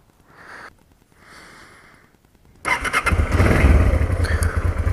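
A motorcycle engine cranks with a couple of short starter whirs, then catches and settles into a loud, steady idle close by, before heading out on a night ride on a moto-camping trip.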